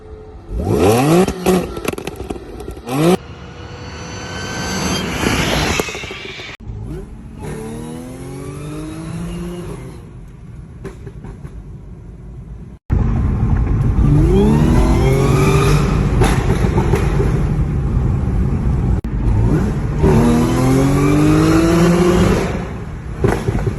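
An Audi with a stock exhaust and gutted catalytic converters revs hard several times, the loud, raspy exhaust climbing and dropping in pitch, with brief pauses between bursts.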